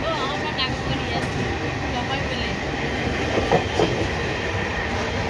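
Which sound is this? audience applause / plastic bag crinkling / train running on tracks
train running on tracks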